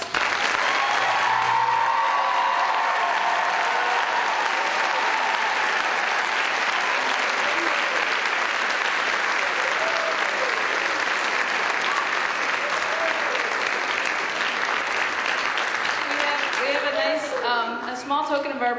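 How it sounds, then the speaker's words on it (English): Concert audience at a college music department event claps for the faculty, a loud, dense, sustained wave of applause lasting throughout, tapering slightly at the end with a voice emerging. "please give them a big round of applause"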